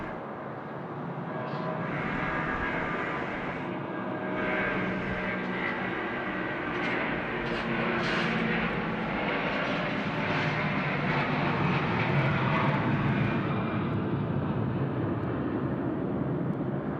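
An Air Asia jet airplane at Sydney Airport at night, a steady, loud broadband engine roar sustained throughout without a break, close and continuous, with no voices over it.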